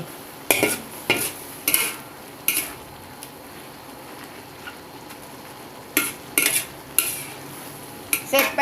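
A spicy Isan-style pork spleen dish is mixed by hand in a bowl or pot, giving short bursts of wet scraping and stirring separated by pauses, close and fairly loud with no speech.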